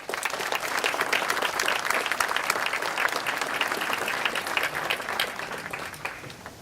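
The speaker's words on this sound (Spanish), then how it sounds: "Un aplauso, por favor" An audience at an infrastructure forum in El Salvador breaks into sustained applause, a full, even crackle of many hands clapping steadily throughout with no break.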